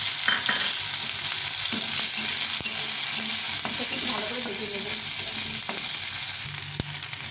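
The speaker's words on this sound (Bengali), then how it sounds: "কয়েকটা রসুন আর কাঁচা লঙ্কা দিয়ে একবারটি পেঁয়াজ নিয়েছি পেঁয়াজটা দিয়ে" Onion, garlic and green chilli fry in oil with nigella seeds, giving a loud, steady sizzle up close, with scattered sharp clicks from a spatula against the pan.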